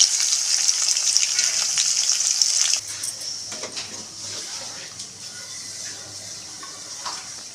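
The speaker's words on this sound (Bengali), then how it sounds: "এমনি ভেজে নেবো তেলের মধ্যে" Young jackfruit pieces frying in hot oil in a home kitchen, a loud steady sizzle for a few seconds that then drops to a quieter, crackling fry with occasional stirring clinks.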